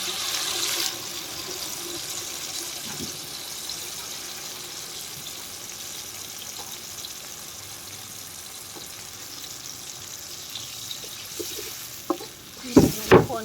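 A spoon stirring curry paste and water in a pan for a Thai home-cooked curry, a steady soft scraping and simmering hiss, ending with a few sharp clanks of utensil on the pot.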